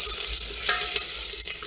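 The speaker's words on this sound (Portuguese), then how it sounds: "Tem uma fritadinha no alho e na cebola, ó." Garlic and onion fry in a pan with a steady, close, hissing sizzle and occasional stirring scrapes. No one speaks.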